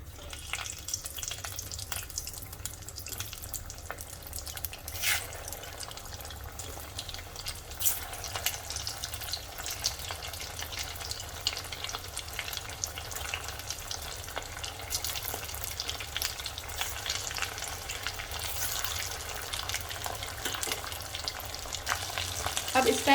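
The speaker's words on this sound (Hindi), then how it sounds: "अब इन्हें एक बार वापस से फ्राई करेंगे।" Arbi and potato tuk pieces frying a second time in hot oil, a steady, dense sizzle with crackling running the whole time at moderate volume, no one talking.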